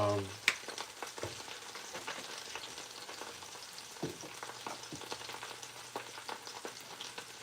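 Cabbage seasoned with garlic powder, seasoned salt and black pepper sizzles steadily as it sautés in a pan for a stewed cabbage dish, with scattered scrapes and light clinks over the constant frying hiss.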